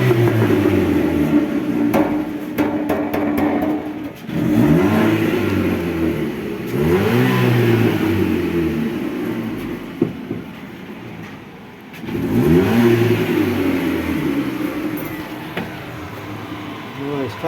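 A Chevrolet Cobalt engine revved several times in bursts, each rising and falling in pitch, loud and close, with short pauses between the throttle blips.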